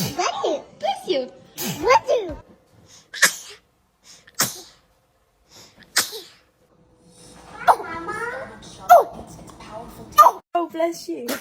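A baby sneezes several times in a row, short sharp bursts spaced through the clip, close and fairly loud, with a voice and light giggles in between.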